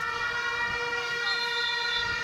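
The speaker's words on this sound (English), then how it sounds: "Once you hear those Vuvuzelas" A dense, droning blare of many vuvuzelas sounds continuously at a football match between Camperdown and Excelsior, with faint crowd noise underneath.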